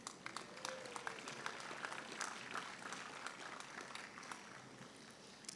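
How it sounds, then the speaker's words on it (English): Audience applause during a city state-of-the-city address, a faint, distant wash of many people clapping that continues steadily for over five seconds with scattered sharper claps. "Let's give them a big round of applause."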